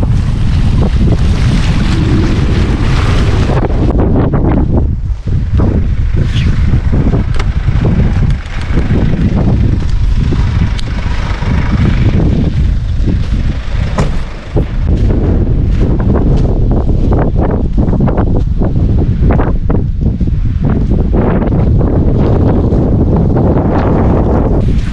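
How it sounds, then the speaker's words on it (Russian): Strong, nonstop wind buffets the microphone beside a reservoir in the tundra on the road to Teriberka, a loud roaring rush that barely lets up. "Тот же самый нереальный ветер."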